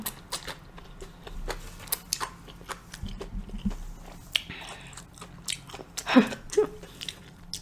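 Close, wet chewing and biting of spicy ramen comes in irregular clicks and smacks, with a few louder slurp-like bursts near the end and no talking.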